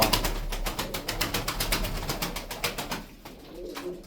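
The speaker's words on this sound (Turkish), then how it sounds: "Kanat seslerini de duyun bunların." Fancy pigeons of the Zil Arap play-bird type clap their wings in a rapid, regular series of sharp beats that sound close and fairly loud, then slow and thin out toward the end. No one speaks.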